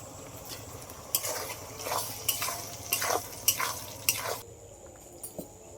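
A spoon scrapes and stirs garlic pickle with vinegar in a pan, making repeated short scraping strokes and light knocks at an uneven pace, fairly close and moderately quiet.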